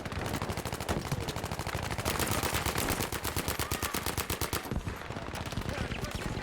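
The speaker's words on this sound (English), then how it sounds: "There's an MG right over there somewhere." Machine gun fire in the shooter Battlefield 5 on the Marita map: a long, loud, steady stream of rapid shots, with a short gap and then more bursts, and voices faintly underneath.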